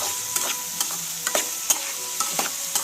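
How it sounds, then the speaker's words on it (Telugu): Prawn curry is stirred in hot oil in a pan, with a soft sizzle under repeated scraping strokes of the spoon, close and clear, without speech. "కూర వేసుకోండి. మంచిగా మొత్తం కలిసేటట్టు కూర అంతా కలిపాయంతా"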